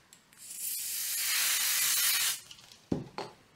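A steady aerosol spray of 505 adhesive hisses for about two seconds onto fabric in an embroidery hoop, then cuts off, followed by a couple of sharp knocks from handling.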